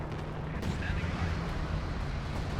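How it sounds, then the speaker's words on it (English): Rumbling artillery fire in Company of Heroes 2, a dense, continuous roll of distant impacts and booms at moderate level, with a caster's voice speaking over the barrage. "Artillery hitting it as well in the retreat"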